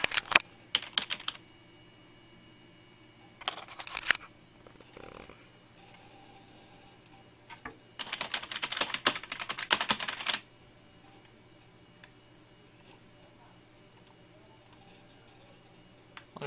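Bursts of key clatter from a Compaq Presario 7594 computer keyboard, fairly quiet, coming in three separate runs with pauses between them and no talking.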